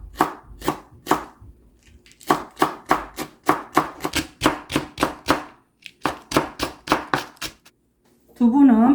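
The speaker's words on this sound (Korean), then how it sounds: "좀 다지겠습니다." A knife minces ingredients on a cutting board while a spicy cheonggukjang stew is being made. Some twenty quick, crisp chops fall in a steady rhythm with one short pause, close and clear, followed by a brief voice at the end.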